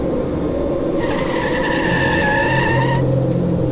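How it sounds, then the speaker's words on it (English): A car sliding out of control on a snowy road as a dramatised effect: a loud, sustained tire skid squeal over a steady engine rumble, lasting a couple of seconds before cutting off. "On the road, I saw a car losing control in the snow"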